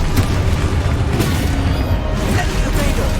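Confringo blasting spell explosions in the Hogwarts Legacy video game, a loud, continuous rumbling barrage of booms and crashes with no clear gaps, dense low-end roar throughout.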